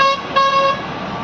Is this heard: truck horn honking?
yes